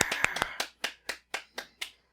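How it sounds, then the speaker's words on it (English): A few sharp hand claps in a quiet room, the first ones quick and overlapping, then six evenly spaced single claps fading out, close and clean with no talking. "Clap it up."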